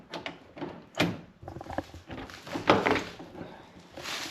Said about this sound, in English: I installed new door locks.